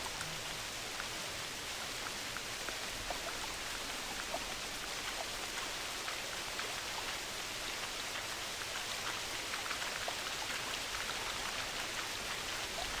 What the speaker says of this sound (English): Why are you raining so much?